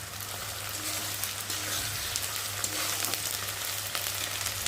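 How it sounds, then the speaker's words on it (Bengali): Garlic frying with onion, ginger paste and cumin paste in a pan for a chicken dish, giving a continuous loud, even sizzle with a low steady hum and no talk. "আদা বাটা আর জিরে বাটা দিয়ে রসুনটাকে ভালো করে পেঁয়াজের সাথে একটু ভালো করে ভেজে দেবো"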